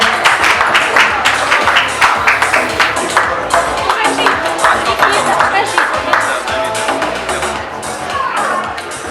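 Applause from the audience at a charity event, dense overlapping claps filling the hall at steady loudness throughout, with crowd voices mixed underneath.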